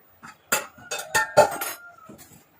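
Grated coconut and jackfruit being stirred in a pan with a metal spoon, producing a few sharp clinks and scrapes against the pan in quick succession, then a softer final scrape.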